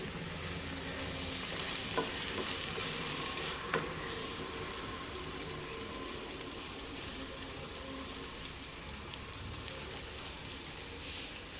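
Steady sizzling of upma frying in a pan, with occasional scraping and stirring sounds, no talking.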